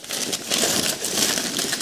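Continuous crinkling and rustling of paper packing during an unboxing, dense and close, with no pauses and no voices.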